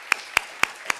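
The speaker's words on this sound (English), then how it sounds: "I'd like to ask you to give a round of applause, please, to our four panelists" Audience at a panel session on water and sanitation goals clapping for panelists, four sparse, evenly spaced claps, brief and moderately close, with no talk.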